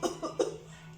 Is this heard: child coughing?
yes